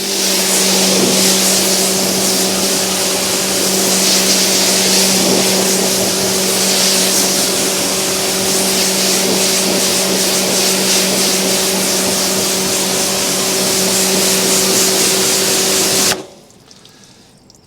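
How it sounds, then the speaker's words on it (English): Loud, close hiss of a pressure washer rinsing a car, spraying water with a steady motor hum underneath, running continuously before cutting off abruptly. "and then we're jet washing it off"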